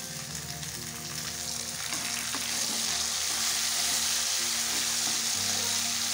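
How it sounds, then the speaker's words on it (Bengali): Chopped tomato added to a pan of frying ginger and garlic, a loud continuous close sizzle with stirring scrapes, over soft background music. "এখন দিয়ে দিচ্ছি টমেটো কুচি।"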